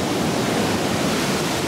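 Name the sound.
waterfall in Iceland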